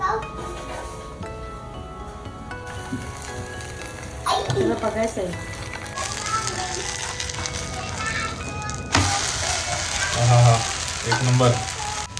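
Potato and vegetable dosa batter fries in an oiled pan, giving a steady sizzle that gets louder partway through, with scraping stirs and someone speaking over it.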